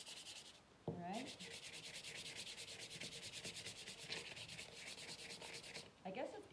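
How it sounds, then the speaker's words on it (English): Sandpaper rubs paint off a craft jar in quick, raspy back-and-forth strokes, close and continuous, with a couple of brief knocks as the jar is handled. "So, don't be afraid to sand, all right?"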